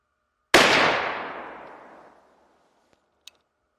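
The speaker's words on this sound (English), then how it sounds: "now we're going to shoot the left barrel." A single sharp, loud rifle shot from the left barrel of a Baikal 45-70 double rifle fired outdoors, its blast rolling away over about two seconds, followed by a couple of faint clicks.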